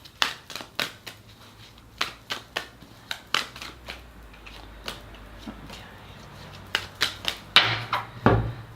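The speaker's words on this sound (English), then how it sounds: "And one more shuffle." Tarot cards are shuffled by hand in a series of crisp, papery riffles and taps, each burst short and close, with a livelier flurry near the end and no talking.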